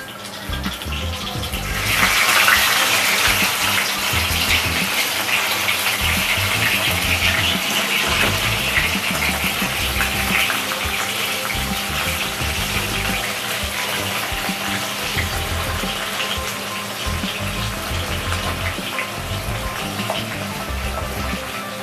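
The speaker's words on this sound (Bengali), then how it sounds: "এবার এই তেলের মধ্যে আমি চিংড়িগুলো দিয়ে একটু ফ্রাই করে নিচ্ছি।" Prawns rubbed with turmeric and salt hit hot mustard oil in a pan, setting off a loud, dense sizzle that starts abruptly and then holds steady and close, with no talking.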